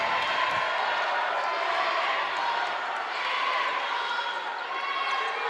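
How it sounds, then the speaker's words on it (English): A crowd at a men's college basketball playoff game jeers a player after an air ball on a deep three, a broad, sustained murmur and shouting filling the gym with faint squeaks and bounces beneath. "As you hear the crowd giving Carchemo a little bit of the heckling for the air ball"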